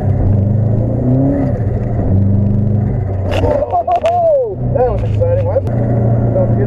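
Snowmobile-style engine held at a steady high roar with the throttle stuck open, droning loud and close while voices talk over it, then a brief dip and surge in pitch as the revs waver.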